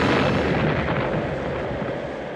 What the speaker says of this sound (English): it looked like that explosion happened about midway between the ship and you